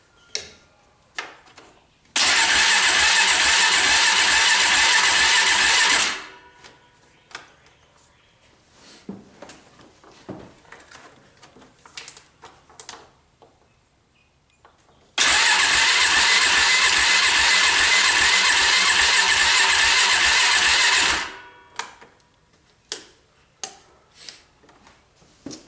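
A small engine on a test battery cranks in two long bursts of steady whirring without catching, separated by quiet clicks and handling noises.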